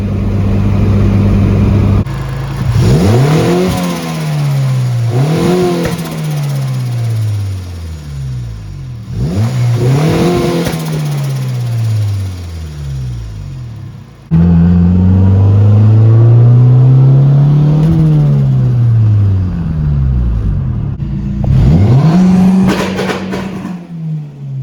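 Turbocharged car engine running at 8 pounds of boost, revved loud and close in several sharp bursts that climb and fall back to idle, ending in a longer sustained rev, with no talking.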